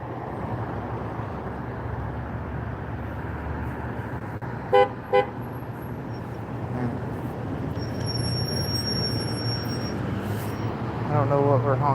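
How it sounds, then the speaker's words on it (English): Short car horn toots sound twice in a busy downtown street in Anniston at early evening, brief and fairly loud over a steady wash of traffic rumble and engine noise. "I don't know what we're honking about"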